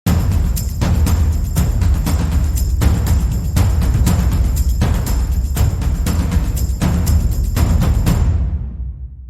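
Three drum layers play together, low, mid and high, combining booming deep hits, resonant mid strokes and a rapid bright high pulse into a dense interlocking rhythm with varied accents, loud and sustained with no speech.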